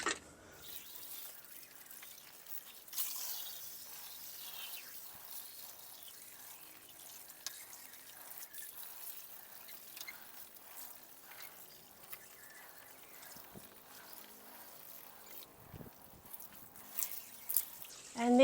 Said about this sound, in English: I need to water all of this in.